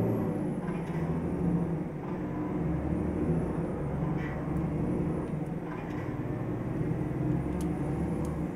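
Heavy truck engine and road noise from Euro Truck Simulator 2 while driving a Scania R450 with a heavy haulage mod, as an oncoming truck passes; a steady loud rumble runs throughout with faint air-brake-like hisses.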